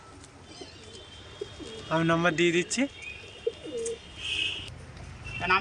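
Racing pigeons coo softly in the background while someone speaks over them, with faint bird sounds continuing throughout.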